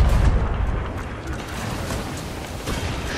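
Ship cannon fire in the pirate video game Sea of Thieves: a heavy booming blast at the start rolls off into a long, rumbling decay under a steady wash of sea and ambient noise, no one speaking.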